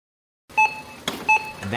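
A Wayfair "big deal" sound effect: two bright electronic beeps, close and clear, separated by a short click, with a cash-register-like ring and no speech.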